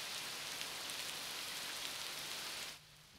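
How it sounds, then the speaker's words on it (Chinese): Steady rain falls outside, a soft even hiss of drops that fades out abruptly near the end, with no voices. "外面在下雨"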